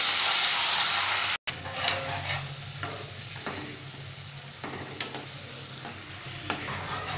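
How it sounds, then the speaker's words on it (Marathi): Tomatoes are stirred into chillies frying in hot oil, producing a loud hissing sizzle at first, then a steadier frying crackle with occasional spoon scrapes, close by. "आता मी ह्यामध्ये टोमॅटो ॲड करत आहे आणि यालाही छान मिक्स करून घ्यायचं आहे आपल्याला"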